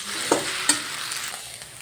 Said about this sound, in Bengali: আলু পেঁয়াজ ডিম কাঁচা লঙ্কা ভাজাটা এর মধ্যে মিশিয়ে ভালো করে আরও ভালো করে ভেজে নিই